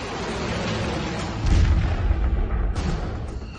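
A SPICE 2000 guided bomb strikes a bunker, producing a heavy, sustained rumble that swells into a deep boom midway and rolls on loudly, with no voices.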